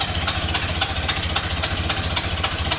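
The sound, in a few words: Ford Model A engine starting and idling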